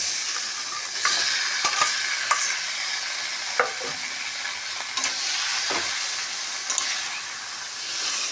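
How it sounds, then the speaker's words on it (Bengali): Boiled taro leaves sizzle steadily in a hot pan as a spatula stirs them, with occasional sharp scrapes and knocks against the metal, close and continuous with no voices. "এবারে সিদ্ধ করা কচুর শাকগুলো দিয়ে দেবো।"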